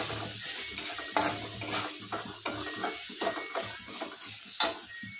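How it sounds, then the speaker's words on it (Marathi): Spices with asafoetida being stirred for a cluster bean dish in a pan, a spoon scraping and clinking against the pan over a soft sizzle, close up with no talking. "छानसं मिक्स करून घेऊया."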